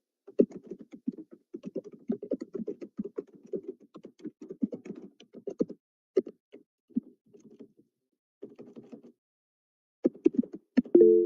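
Someone types on a computer keyboard during an online refresher lecture on AI and machine learning. Close, quick clusters of key clicks come in bursts with short pauses, then a final flurry of keystrokes.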